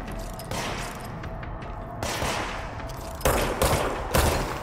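Several separate bursts of gunfire from the Control video game crack out at irregular intervals, loud and close, each a short sharp volley over a rumbling background.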